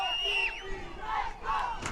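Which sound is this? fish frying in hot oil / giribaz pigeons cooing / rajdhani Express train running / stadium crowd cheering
stadium crowd cheering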